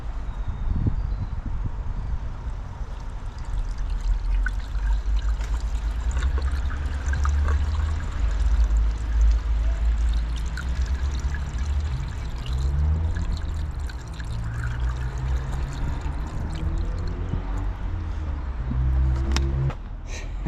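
Liquid poured into the window washer reservoir of an old BMW M3 after winter: a steady, continuous rushing and gurgling pour, loud and close, running without a break from start to finish.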